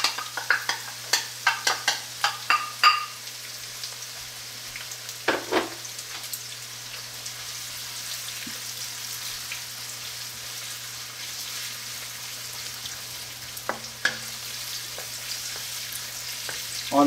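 Onions dumped into a lightly oiled pan for fried rice and frying on high heat, a burst of sharp clatters and scrapes at the start, then a steady close sizzle with a few later stirring knocks.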